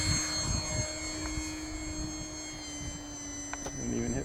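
An electric motor spins the propeller of an H-King Savage Bobber compact STOL RC airplane in flight, heard as a steady high whine below full throttle, moderately distant, with brief voice sounds and handling noises near the start and end.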